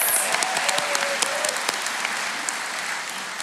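A graduation ceremony audience for shipbuilding apprentices claps in a dense, steady wash of applause, with sharp individual claps popping out and a brief cheer near the start.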